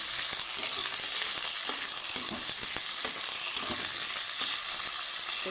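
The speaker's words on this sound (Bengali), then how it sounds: "আলুটাকে প্রথমে ভেজে তুলে নেব আলুটাকে আমি লাল করে একটু ভেজে নেবো" Potato pieces frying in a pan for a spicy dry potato and capsicum curry, a steady broadband hiss of oil sizzling throughout with occasional light clicks and scrapes, close and continuous with no voices.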